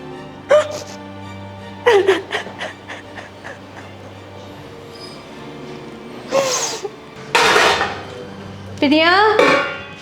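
Dishes, pots and utensils clatter on a kitchen slab piled with used utensils, in several sharp bursts of clanking and scraping separated by pauses, close and loud.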